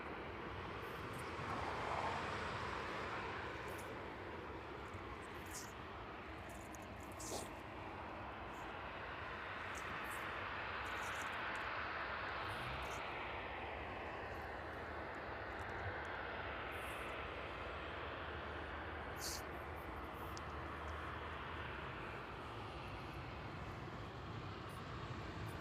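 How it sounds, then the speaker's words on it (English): A UPS Boeing 767 cargo jet rolling along runway 27 at East Midlands Airport in the evening, a steady, broad engine roar heard from a distance that holds evenly throughout with no talk. "The UPS 767 vacating runway 27 there"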